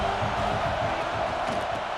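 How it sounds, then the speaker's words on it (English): A steady roar of a stadium crowd cheering in EA Sports College Football 26, a dense, continuous wall of noise throughout. "This crowd bringing the energy and noise early"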